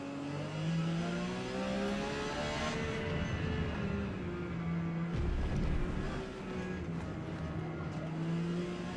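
A Porsche 956 Petty Edition race car in Forza Motorsport at Kyalami roars at steady high revs, its engine note climbing and dipping through gear changes as it drives continuously.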